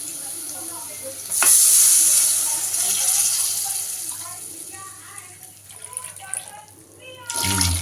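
A loud hiss of sizzling in a pan as a curry mixture with added water is stirred with scraping strokes, easing off midway and returning near the end; a voice talks faintly underneath.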